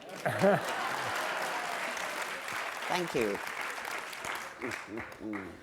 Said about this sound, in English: Clap louder.